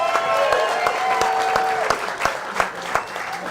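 An audience at a Baltimore Ravens wrap show applauds team owner Steve Bisciotti, scattered clapping with distinct sharp claps ringing out over a steady backdrop, while a tonal hum runs underneath and thins toward the end.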